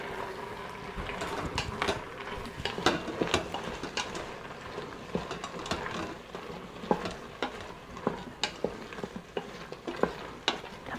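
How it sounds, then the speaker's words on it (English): Mushrooms cook in a pan for a Thai curry, a quiet background sizzle broken by frequent clicks and scrapes of a stirring utensil in an uneven rhythm, with no speech. "I'm gonna add in the mushrooms now and let those cook down."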